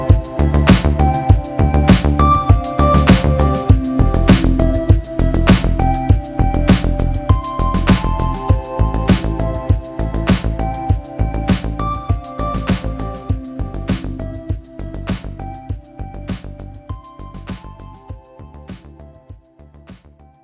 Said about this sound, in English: will produce a fade out for the entire mix